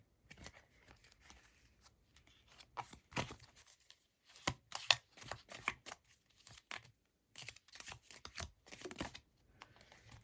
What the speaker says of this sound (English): let's get 2 cards from here